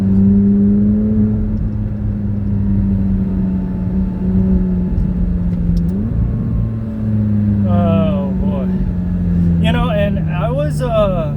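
A McLaren without downpipes, its engine a loud steady low drone that shifts pitch midway, with a person talking over it near the end.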